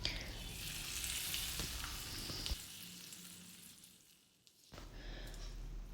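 Hot oil tempering of mustard seeds, sesame seeds and curry leaves sizzles loudly and steadily as it is poured into a puffed rice mixture for handvo, then briefly quietens before the sizzle returns.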